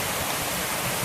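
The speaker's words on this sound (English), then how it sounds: "this is another little waterfall" A small waterfall in the Maui rainforest rushes in a steady, loud, unbroken wash of falling water, heard close with no talk.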